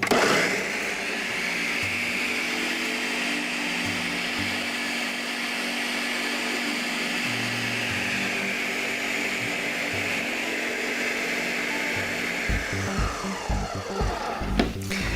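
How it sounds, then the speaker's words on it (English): A blender making a peanut butter smoothie roars steadily for about twelve seconds, a loud whirring motor with a slight shift in pitch, then winds down with clunks at the end. "And we're gonna go blend."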